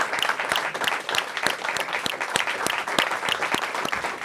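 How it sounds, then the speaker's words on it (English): A round of applause from the audience at an arts candidates forum, moderate-volume clapping with a few distinct nearby claps standing out over the crowd's continuous patter. "Now let's do a round of applause."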